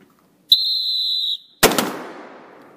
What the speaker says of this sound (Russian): по свистку стреляйте кто как может